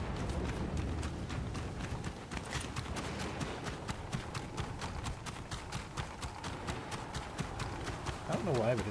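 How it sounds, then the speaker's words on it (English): Heavy, clumpy footsteps in the original Fortnite video game thud in a steady rapid rhythm. Continuous game sound runs under them throughout, with a player talking over it. "it sounds like my footsteps are really, really clumpy"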